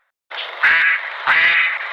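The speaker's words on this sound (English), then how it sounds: "That's correct. It was a duck." A duck gives two loud, nasal quacks close by, one after the other, with nothing else heard.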